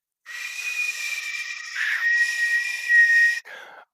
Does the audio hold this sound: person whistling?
yes